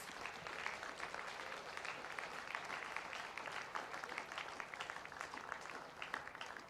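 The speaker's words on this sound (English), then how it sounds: "we need to give a round of applause to all of you students" Sustained applause from a school audience honouring graduating students at a high school ceremony, a dense steady wash of many hands clapping throughout without pause.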